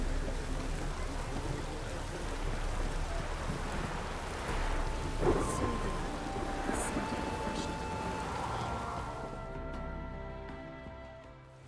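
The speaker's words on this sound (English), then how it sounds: "A storm, damn it." A rainstorm with thunder in The Witcher video game: a constant hiss of heavy rain over deep rumbling and a few sharp splashes, fading out near the end as faint music enters.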